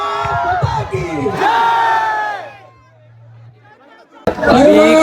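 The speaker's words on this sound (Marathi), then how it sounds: "सर्वांनी एकत्र जल्लोष करूया" Protesters celebrating a victory at Pune University shout and cheer together in loud, close bursts that fade to a brief lull before the crowd erupts again.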